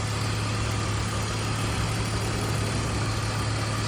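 A 2001 BMW 330i M-Sport with 120k miles, fresh from new power steering and coolant lines, idling at close range with a steady, even hum throughout and no talk.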